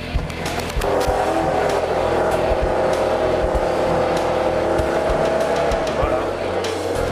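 Car accelerating on a slippery surface during a driving lesson, a steady loud engine roar with rising tone and tyre noise heard from inside, continuous throughout with an instructor's voice over it.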